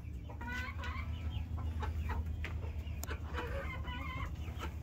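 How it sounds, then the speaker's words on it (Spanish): Several Mapuche laying hens in Chile cluck and murmur close by at feeding time, with a steady low rumble of background noise underneath. "Miren que aquí están las gallinas, ¿ves?"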